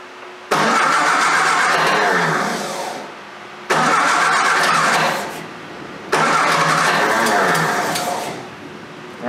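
A car engine with SU carburettors cranks and catches three times in a row, each start settling into a rough, barely steady idle before cutting out and restarting.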